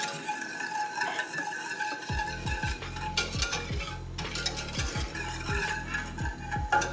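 A spoon sweeps repeatedly around a pot, combining ingredients for a pineapple sweet chili sauce, with steady rhythmic scraping strokes heard close and alone.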